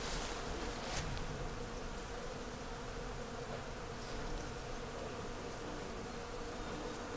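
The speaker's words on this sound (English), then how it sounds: "Can you hear the bees?" Honeybees swarm and buzz steadily in a tree outdoors, a dense continuous hum that holds at an even level throughout with no talking.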